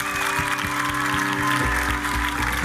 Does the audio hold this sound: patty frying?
no